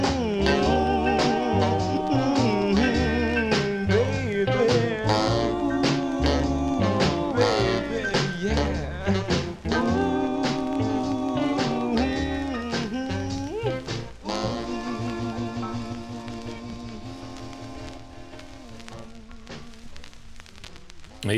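A 1955 doo-wop record playing with harmonized vocal group singing over a steady backing band, full and continuous before easing slightly toward the close.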